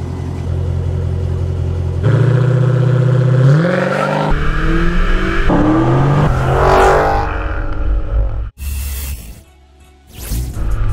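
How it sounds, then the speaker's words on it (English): A Dodge Challenger SRT accelerates hard at full power on a short sprint, its loud engine rising in pitch through gear changes before cutting off abruptly, with no talk. "In the second test, Willie's going to open this thing up, and we're going to see some power out of this."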